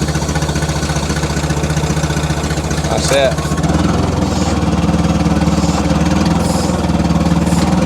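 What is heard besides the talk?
large engine running after first run-up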